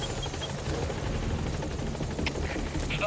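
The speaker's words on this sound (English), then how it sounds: "Support helicopter has arrived" Support helicopter in the video game Metal Gear Solid V, its rotor chopping steadily and fairly close with a dense rhythmic thrum and no talk over it.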